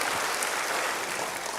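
A church congregation claps in praise to God during a sermon, a brief burst of dense, even applause that fills the room without any voices.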